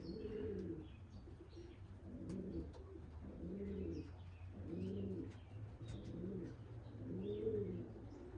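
Racing pigeons coo inside their coop in a steady series of soft, rolling calls repeating roughly every second, with occasional chirps and faint wing flutters over a low background hum.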